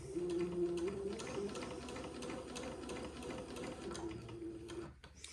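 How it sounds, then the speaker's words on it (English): A sewing machine stitches a seam on baby gown fabric, a steady, close mechanical whir with a rapid needle tick that runs continuously and then stops abruptly near the end. "I'm just sewing very close to the edge of that seam"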